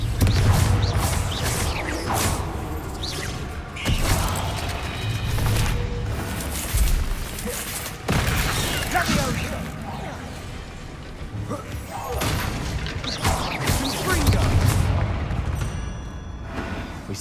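Confringo blasting spells in Hogwarts Legacy burst in repeated heavy booms and crashes, each blast followed by rumbling debris, with spoken spell incantations between them.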